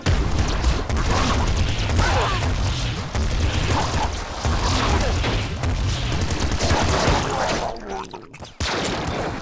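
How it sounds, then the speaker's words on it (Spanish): A loud, rumbling explosion in Nuclear Throne with crashing debris and scattered bursts, the noise churning for several seconds before dropping away. "¡No! ¡La explosión!"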